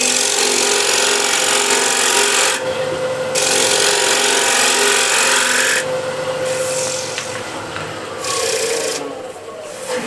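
Woodturning scraper held tilted on its side against a big spinning wooden platter, giving a loud, continuous rasping scrape that dips briefly in level a few times.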